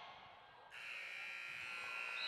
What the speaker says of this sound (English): But that buzzer says it's the end of the 3rd quarter.